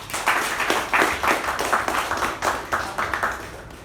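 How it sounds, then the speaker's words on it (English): An audience at a Toastmasters meeting claps for the Toastmaster in a short burst of steady applause, even and moderately loud, with no speech over it. "Please give a round of applause for our Toastmaster, table topic master, Toastmaster Abhimaan."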